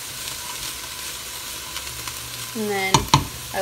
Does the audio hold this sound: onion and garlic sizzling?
yes